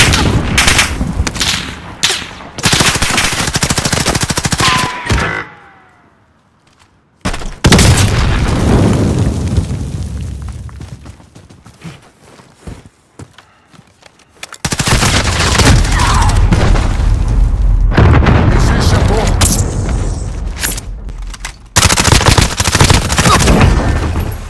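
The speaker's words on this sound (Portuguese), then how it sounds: "Jogando granada." Explosions and heavy gunfire in a Call of Duty Warzone match after a grenade is thrown: loud repeated booms and bursts of automatic fire in dense clusters, with a short quiet gap and a rumbling stretch in the middle.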